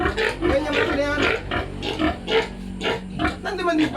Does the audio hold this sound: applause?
no